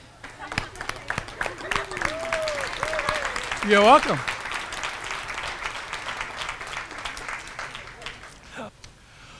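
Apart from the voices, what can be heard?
audience applause for a birthday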